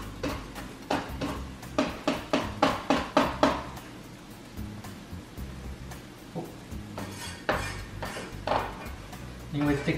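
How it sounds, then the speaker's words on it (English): A knife dices an onion on a cutting board, a quick run of close, crisp taps for a few seconds, then scattered chops and scraping. "I'm no expert with dicing, so I just generally do it like this"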